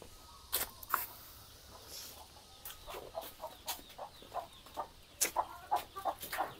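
A brood of newly added chicks peeps insistently for food, with many short, high, repeated cheeps overlapping in a busy, fairly close chorus and no one talking.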